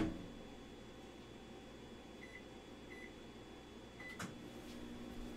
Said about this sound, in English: we are going to take 15 grams of butter and we're going to throw it in the microwave.